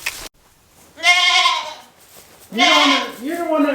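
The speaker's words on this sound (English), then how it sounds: "Come on, goats." Goats in a barn let out two loud, wavering bleats close by, separated by a brief pause, with faint background sounds between calls.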